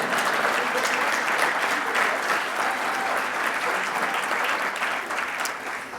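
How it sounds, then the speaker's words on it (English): A large audience at an LGBTQI+ leaders' opening program breaks into sustained applause, a dense wash of clapping that holds steady and tapers slightly near the end. "You can clap now."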